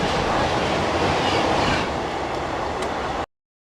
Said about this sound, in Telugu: పక్కన వెళ్ళిపోతుంది చూసారా ఏ ట్రైన్ అనుకుంటున్నారు? అది లింగంపల్లి ఇంటర్సిటీ ఎక్స్ప్రెస్ అండి.